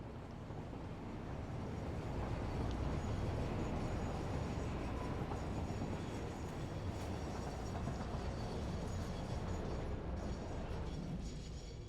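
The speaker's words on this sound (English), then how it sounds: "need to turn on the train that goes to the Gold Coast" A train in a video game, the service running to the Gold Coast, gives off a steady, heavy rumble with rolling low-end noise that holds at an even level for about twelve seconds, with no voices over it.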